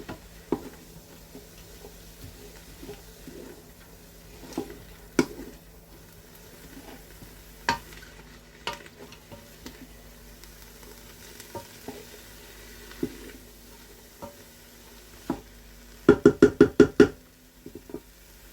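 Beef mince stirred in a Ninja 15-in-1 cooker, with scattered soft scrapes and light sizzle at close range, then a quick burst of sharp knocking taps near the end.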